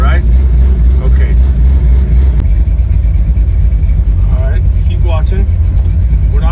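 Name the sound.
car with Chevy small block 406 engine driving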